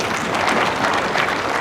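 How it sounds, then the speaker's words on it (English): An audience applauding at an expert panel session, continuous dense clapping at close range that holds evenly throughout. "Join with me to give you a big round of applause too"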